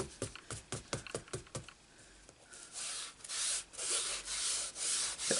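Embossing buddy rubbed by hand across a stamped card, starting as a string of short, quick scrubbing strokes and then stretching into longer, smoother sweeps; close, soft and dry, with no talking.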